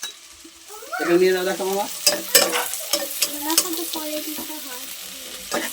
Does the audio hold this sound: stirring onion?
yes